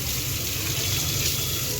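Potatoes being rinsed under a running kitchen tap, a steady close rush of water splashing into the sink without pause.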